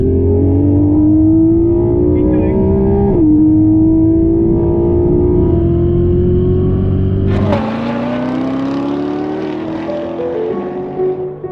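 A Corvette C7R accelerates hard from 50 mph on a runway, its loud engine note climbing through a gear change, then rising again in a second pull before fading slightly toward the end.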